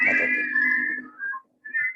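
Archival recording of guerrilla fighters whistling while marching, a sustained tuneful whistle with a steady low hum beneath, fading then returning in two short bursts.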